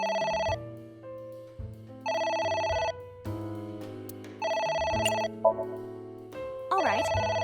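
Electronic phone ringtone in AI: The Somnium Files, a repeating melodic ring in bursts about every 1.5 seconds, with a short warbling tone at the end.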